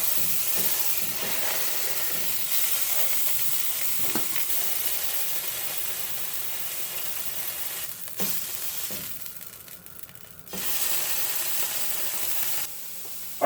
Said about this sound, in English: We can get each side seared because you're sealing in that flavor.